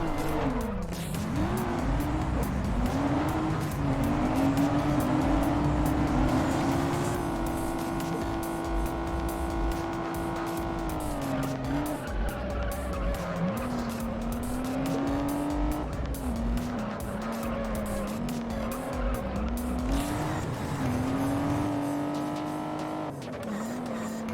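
Nissan 300Z racing in the video game Juiced, its engine droning loudly and steadily with rising and falling revs while tires squeal in long sustained screeches through corners.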